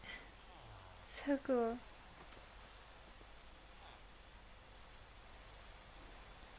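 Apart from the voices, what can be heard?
rain falling in Minecraft, video game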